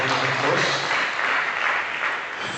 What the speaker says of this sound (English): I expect us to give him a round of applause.